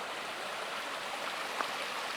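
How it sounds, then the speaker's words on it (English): A little mountain creek at about 8,500 feet, running over rock near a campsite east of Cuba, rushes in a steady, close, even wash of water with no voices. "to the little creek running over the rock"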